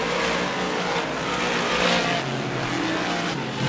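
Modified race cars roar wheel to wheel through a corner at Merrittville Speedway, a loud continuous engine drone with no talk.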